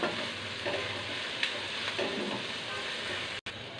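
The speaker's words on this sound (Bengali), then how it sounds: "দিয়ে পেঁয়াজটাকে একটু ভেজে নেব।" Onions frying in oil with torn bay leaves for a Bangladeshi chicken and potato curry, a steady close sizzle with soft scraping as they are stirred, broken by a brief dropout near the end.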